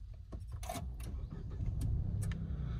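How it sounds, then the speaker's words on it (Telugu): A Mahindra XUV3X0 car's engine is started with the push start button: a few clicks and chimes from the cabin, then the engine catches and settles into a low, steady idle, close by. "అయితే కార్ స్టార్ట్ చేసి చూపిస్తాను."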